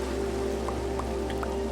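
Steady rain falling at nightfall in a Minecraft-style sandbox game, a constant soft wash with a few distinct droplet ticks, no voices over it.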